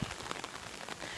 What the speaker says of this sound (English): I hope y'all can hear me with all the rain and stuff like that